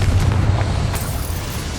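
A Confringo fire spell explodes in Hogwarts Legacy, a heavy booming blast whose low rumble rolls on steadily for about two seconds, loud and close.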